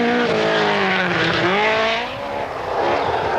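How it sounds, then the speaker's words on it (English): A rally car at full throttle on a closed road stage of the 1979 Manx Rally, its loud engine note rising and falling through gear changes, close and continuous with no talk over it. "So Russell Brooks and Paul White here are leading on the roads, but they're in third position on time"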